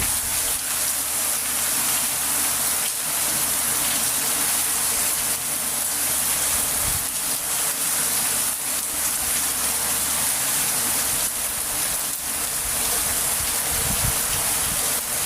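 Steady rain falls without pause through a long wet spell, a dense, even hiss of water on surfaces that holds constant throughout with no voices.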